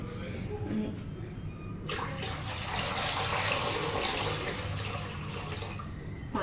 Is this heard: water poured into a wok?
yes